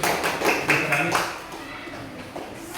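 A primary-school class claps for a pupil who has come to the front, a short burst of scattered handclaps with a teacher's voice talking over them before the clapping fades.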